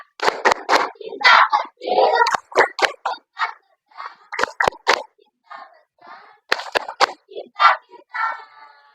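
A classroom group performs the Indonesian 'tepuk cinta' clapping chant, with sharp rhythmic claps punctuating children's chanted voices in a patterned sequence.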